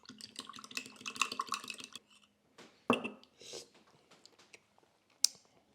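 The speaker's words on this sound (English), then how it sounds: "We're going to give that a mix, and we're going to taste it and see what it's missing." A soy sauce, garlic and honey dressing is stirred in a bowl, giving rapid clinking and scraping of a utensil against the dish, followed by a few sharper knocks and taps after a pause, with no talking.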